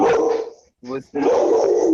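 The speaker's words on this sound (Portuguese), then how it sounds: "E o cachorro aí no fundo." A dog barks in the background, a short burst of yips heard in a gap between a person's speech, with talking resuming right after.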